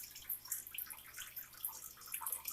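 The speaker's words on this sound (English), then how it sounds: "The water sounds pretty loud" Water splashing and trickling from the outflow of an Exoterra FX-350 turtle filter, a busy stream of small bright drips and splashes, moderately close with no talk.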